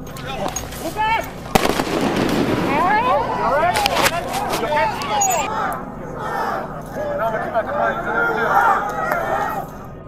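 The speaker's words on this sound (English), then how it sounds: "the assembled police were attacked by explosive firecrackers thrown by the protesters" Explosive firecrackers thrown at police during a street protest burst in sharp, loud cracks amid shouting crowd noise and whistling, with several bangs spread across a chaotic scene.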